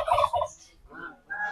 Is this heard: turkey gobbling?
yes